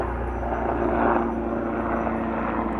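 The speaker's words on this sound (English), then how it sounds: "Oh, there's a helicopter." A helicopter passes overhead, its low rotor and engine drone holding steady at moderate loudness and swelling slightly midway, with no speech.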